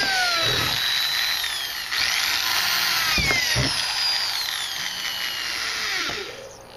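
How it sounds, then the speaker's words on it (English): A power drill bores 1/4-inch holes through a plastic trash can, its high whine running loud and near with several short bursts and brief dips between holes. "we drilled 1/4-inch holes all around the entire thing"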